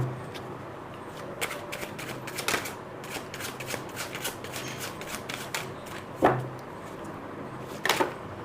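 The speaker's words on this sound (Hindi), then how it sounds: "आपके सामने ही मैं कार्ड्स सारे सफल कर रही हूँ।" Tarot cards are shuffled close up in a steady run of crisp riffling flicks and slaps lasting several seconds, with a couple of sharper card snaps near the end and no talking.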